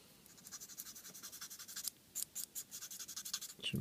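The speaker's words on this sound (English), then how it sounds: "We'll give them a quick sand just to get rid of any flashy bits." Plastic model kit parts for a Trumpeter Stryker being sanded by hand to remove flash: quick, rhythmic rasping strokes, close and faint, with a short break before the scratching picks up again.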